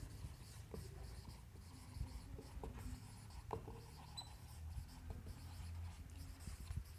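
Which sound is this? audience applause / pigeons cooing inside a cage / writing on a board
writing on a board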